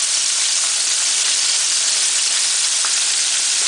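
Steady, loud sizzling of buttermilk-battered fish frying in hot grease, a continuous crackling hiss with no pauses and no voices.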